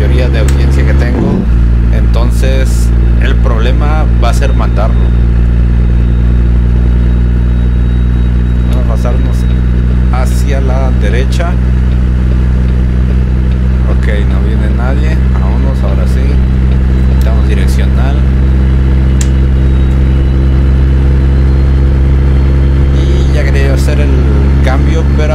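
A Kenworth K100e truck engine at about 1300 rpm in American Truck Simulator, pulling a B-train tanker with an Eaton Fuller gearbox, drones steadily and loudly at a low pitch the whole time while someone talks over it.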